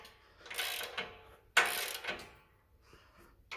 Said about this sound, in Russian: Обычная трещотка,